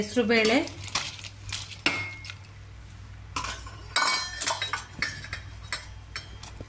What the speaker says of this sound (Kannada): ಹೆಸರು ಬೇಳೆ ಮತ್ತು ಸೌತೆಕಾಯಿ ಎರಡನ್ನೂ ಸೇರಿಸ್ಕೊತಾ ಇದ್ದೀನಿ